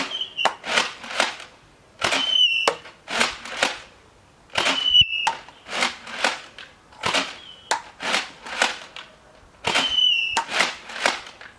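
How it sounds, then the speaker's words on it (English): A Nerf Mega Centurion blaster fires darts in a series of sharp, close snaps and thumps, spaced in uneven bursts with brief pauses between shots, and no talking. "So I'm going to load a couple of these darts up and fire them back towards you."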